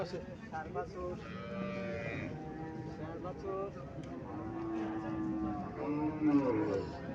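Cattle, including a Friesian cow, low and moo amid a busy outdoor crowd at the Mirshanni cattle market in Cumilla, with people talking close by throughout.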